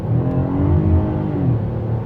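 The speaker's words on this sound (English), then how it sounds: "There's a little bit of wheel spin, but the all-wheel drive reels it in really good." 2019 Cadillac XTS with 3.6L V6 and all-wheel drive accelerating on a wet road: loud engine drone rising steadily in pitch, with a brief dip as it shifts, heard from inside the car.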